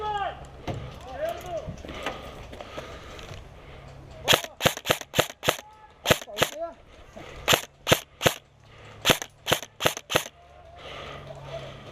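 Airsoft guns firing during a game in Denmark, a quick series of sharp snapping shots in irregular bursts of two to four, loud and close, with people talking and calling out between them.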